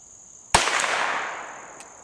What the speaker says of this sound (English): now I'm going to shoot this Ruger Mark IV again at long distance